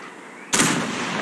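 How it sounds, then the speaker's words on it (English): A heavy artillery strike in World of Tanks Frontline lands as one sudden loud blast after a quiet moment, then a long, dense rumbling roar that stays strong to the end. "Heavy artillery is ready. We'll drop this artillery over here."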